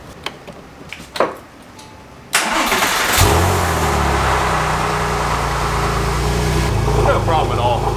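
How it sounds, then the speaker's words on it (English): A few light clicks, then a Porsche 996 911 Turbo engine, started with a jump starter, cranks briefly and catches, settling into a loud, steady idle close by. "Let me show you how it'll fire this car right up"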